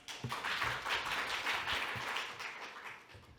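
Audience applause welcoming a speaker onto the stage at a smart city innovation conference session, a steady wash of many hands clapping together that fills the room and fades slightly toward the end.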